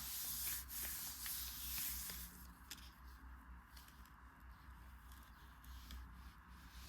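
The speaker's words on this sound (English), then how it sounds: "Sometimes it means just a little bit smoothing down, a bit more smoothing down, just to make sure you've got between all the leaves properly." Paper is rubbed and smoothed by hand over leaves on a gel printing plate, giving soft, faint brushing and rubbing strokes at close range with no talk.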